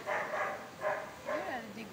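Dog barking and yipping in short bursts, three clusters over two seconds, close and moderately loud, with a whine-like rising tone near the end and voices mixed in.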